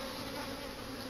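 Honeybees swarm around an opened hive during a spring brood check, making a dense, continuous buzzing hum from many bees close by, steady throughout with no voices.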